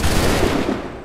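A musket volley in Assassin's Creed 3 erupts as one loud, close, massed burst of shots that rolls on briefly and then starts to fade.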